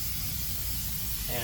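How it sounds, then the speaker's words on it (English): Brake cleaner sprayed onto a differential housing during a rear differential service on a Chevy/GMC van, giving one steady, close aerosol hiss that runs the whole moment. "Basically, you just clean this up with brake cleaner, carb cleaner, whatever,"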